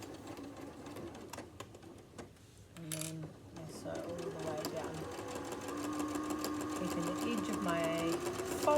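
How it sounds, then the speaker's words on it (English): A sewing machine stitches a fabric tote bag strap forwards, backwards, then all the way down. It runs in a steady, close, mechanical whir that builds and speeds up after short stop-start bursts, with a voice briefly underneath. "I sew forwards, I sew backwards, and then I sew all the way down."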